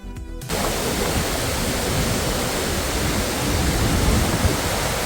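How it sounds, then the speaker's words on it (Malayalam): A steady, roaring rush of water falling from about 150 feet, loud and close, that starts abruptly and holds constant throughout. "ഏകദേശം നൂറ്റൻപത് അടിയോളം ഉയരത്തിൽ നിന്നും വീഴുന്ന വെള്ളം"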